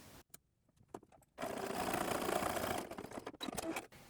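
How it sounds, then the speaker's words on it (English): Sewing machine stitching the short side edges of a split hem band along the seam line, a steady close whirring run in the middle after a few brief starts, ending with short stop-start bursts. "I'm only going to stitch to my seam line"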